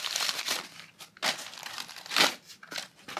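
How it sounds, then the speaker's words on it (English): Paper is crumpled and crinkled while being stuffed into a bicycle frame during packing for air travel, several close crackling bursts with short pauses between them. "I've just shoved a whole bunch of paper in there just to try and stop it from being able to get pushed in."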